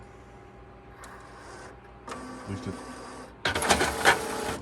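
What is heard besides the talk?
Sawgrass SG800 sublimation printer printing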